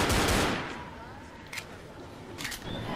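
Zombie-shooting gunfire in the video game Left 4 Dead, a dense burst of rapid shots up front that thins into scattered pops and a few sharp cracks, with game noise underneath.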